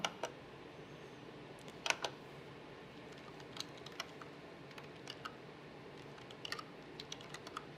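Quiet, scattered clicks of a computer keyboard as a name is typed in, brief taps in short irregular runs against a soft room hiss.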